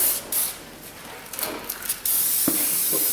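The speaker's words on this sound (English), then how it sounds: "I'll take some fluid film. Will you grab our new wheel bearing? So we'll spritz this down." Fluid Film aerosol sprayed onto a new rear wheel bearing for a Jeep Compass or Patriot, short hissing spritzes followed by a longer sustained close spray burst.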